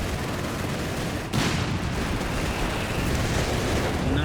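Battle noise rumbles through a Company of Heroes 3 match, a dense wash of gunfire and blasts with a sharp louder burst partway through, then a sustained roar.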